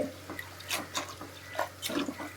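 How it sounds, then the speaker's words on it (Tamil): About half a glass of water goes into a pressure cooker sitting on a stove: irregular close splashes and gurgling pours in several short bursts, with no talking. "குக்கரை அடுப்பில் வச்சு கொஞ்சம் அரை கிளாஸ் தண்ணி ஆட் பண்ணி"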